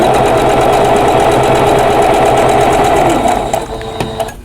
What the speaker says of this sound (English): I'm going to do this in the chain piecing method